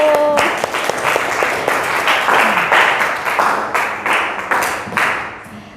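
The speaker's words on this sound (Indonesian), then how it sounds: "Oke, kasih tepuk tangan dulu." Classroom applause during a student-teacher practice lesson, a crowd of students clapping steadily and fairly close for several seconds, with faint voices mixed into the clapping before it tapers off.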